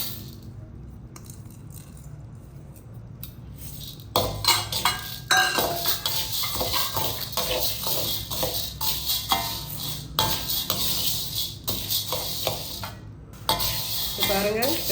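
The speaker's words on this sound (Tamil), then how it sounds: "இப்போ நம்ம உளுந்தையும் சேர்த்து வறுத்தரலாம்" Chana dal and urad dal dry-roasting in a pan, grains rattling and scraping under a stirring utensil, quiet at first and then loud and busy with rapid clattering strokes.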